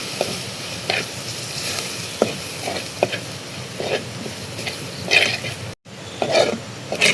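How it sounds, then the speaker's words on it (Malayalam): Coriander, chili and turmeric powders being sautéed in a hot pan: a steady close sizzle with intermittent scraping stir strokes, no talk. "വഴറ്റിയെടുക്കുക."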